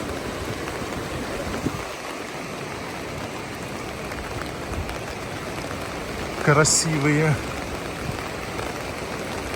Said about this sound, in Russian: А по дождю подниматься, что там делать в дождь?